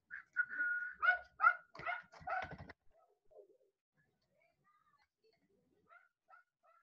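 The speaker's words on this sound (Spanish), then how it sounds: "ese maldito perro es, ¿verdad?" A dog barks in a quick burst of several loud yelps near an indoor online class, then falls silent, with only a few faint distant chirps afterward.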